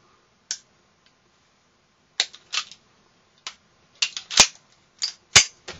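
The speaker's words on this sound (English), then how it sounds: "You can also change the mags entirely with the left hand, which might be a better way to do it." Left-handed magazine change on a Colt 1911 .45 pistol: a series of sharp metallic clicks and clacks, close and fairly loud, spaced irregularly with a couple of louder snaps near the end, no talking.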